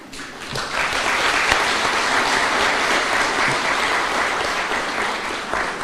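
An audience claps steadily for members of Parliament at a national government constituency fund event, sustained dense applause from many hands filling the whole stretch without speech.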